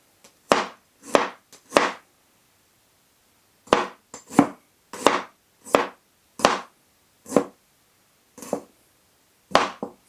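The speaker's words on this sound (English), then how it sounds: "So I'm going to take a little bit of ginger, not too much this time. Chop off the gnarly edges. And then just finely slice." A kitchen knife finely slices a piece of ginger on a chopping board in a dozen crisp, close cuts, some in quick clusters and some spaced apart, with no talk.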